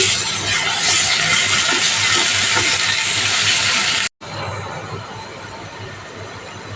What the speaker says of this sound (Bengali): পেঁয়াজটাকে সুন্দর করে ভেজে নেব এখন দিয়ে দেব বেটে রাখা মশলা